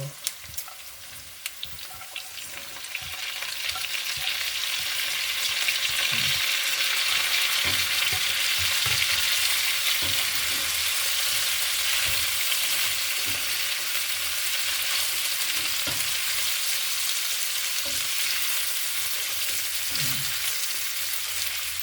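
Sitaw string beans drop into a pan of crisp frying spareribs, and after a few clattering thuds the fat settles into a loud, steady sizzle with occasional stirring knocks.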